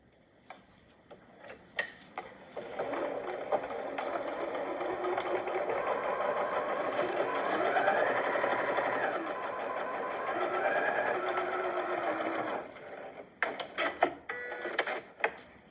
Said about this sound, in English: I'm gonna sew with a 1/4 inch seam allowance down each side.